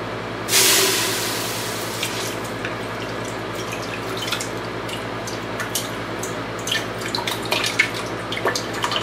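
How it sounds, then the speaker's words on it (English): Fish-head stock poured from a container into a pot, a brief splashing pour near the start followed by scattered drips and small clinks over a steady low background hum. "Now I'm going to pour this into the pot"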